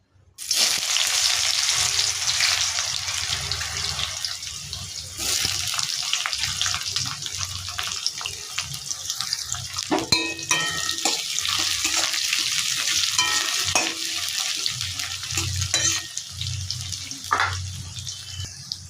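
Sliced onions added to hot oil with cardamom, cinnamon, bay leaf and dried chilli for butter chicken, a loud continuous sizzle with occasional scrapes and clinks, no voices.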